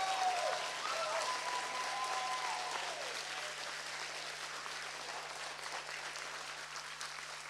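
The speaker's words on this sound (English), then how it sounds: "could we just have a big round of applause for all those?" Audience applause at a school choir concert, a broad steady wash of clapping from a large crowd that holds evenly throughout, with a faint whistle near the start.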